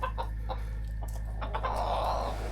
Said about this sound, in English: it turned out to be 4 roosters